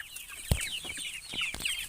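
Farm chickens and young hatchlings clucking and chattering close by, a busy overlapping run of short clucks and peeps with one sharp knock near the start, no talking.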